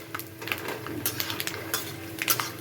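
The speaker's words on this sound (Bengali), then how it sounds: "প্রথমে আমি বাদামগুলো ভেজে নেব" Nuts fry in white cooking oil in a pan with a faint, steady sizzle, while a spatula scrapes and clinks against the metal in short, scattered taps.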